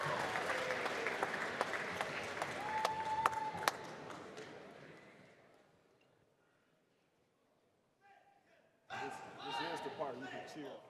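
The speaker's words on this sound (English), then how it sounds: "let's give the Ottawa Hills Drumline a well-deserved round of applause" Audience applause for the Ottawa Hills Drumline at an African American Male Achievement Conference, loud and dense clapping with crowd noise that fades away to near silence, then a burst of cheering and clapping returns.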